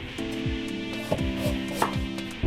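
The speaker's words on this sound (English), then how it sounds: "I want to slice this as thinly as possible, preferably 1 or 2 millimeters thick." A knife thinly slices pumpkin into pieces a millimetre or two thick, making several quick, crisp cuts over a steady humming background.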